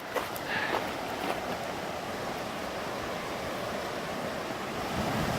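A wilderness river rushes steadily at a crossing, a broad, constant wash of flowing water with a few faint rustles and knocks near the start.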